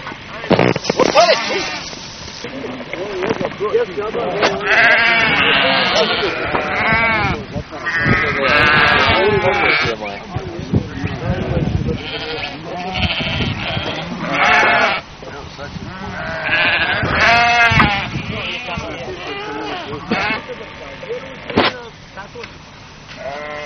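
Many sheep bleat close by, overlapping in frequent loud calls across the whole stretch, with people talking among them.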